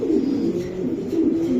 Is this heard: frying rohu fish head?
no